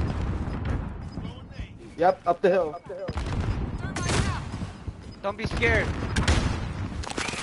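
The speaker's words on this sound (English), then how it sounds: "Come on, guys. Throw fireworks." Fireworks in an online video game pop and crackle in quick bursts and a rapid volley, loud against chaotic background noise while several players talk and shout over it.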